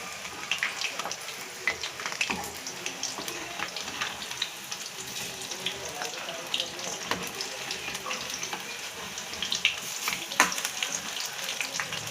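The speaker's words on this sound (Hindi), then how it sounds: "तो गाइस यहाँ पे हम पकौड़ी बना रहे हैं बच्चों के लिए" Pakoras for children fry in very hot oil, giving a continuous crackling sizzle with scattered pops and bubbling throughout; faint talk can be heard in the background.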